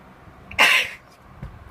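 One sharp, loud sneeze bursts out close by, followed by a faint breathy sound a moment later, otherwise quiet around it.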